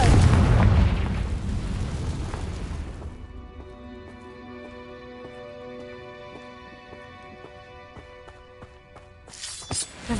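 A Confringo explosion spell in the video game Hogwarts Legacy, one loud booming blast that rumbles and fades over several seconds into a tonal magical shimmer, with a sharp new burst at the end.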